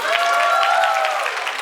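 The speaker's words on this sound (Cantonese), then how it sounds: "俾啲掌聲佢。" An audience claps at a fan club anniversary gathering, a dense, even patter of applause that stays close and steady, with a faint tonal hum under it.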